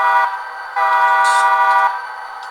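Horn of a model locomotive, road number 9023, on a home layout, sounding from onboard sound decoders: two sustained harmonic blasts, a short one then a longer one, loud and close with nothing else over them.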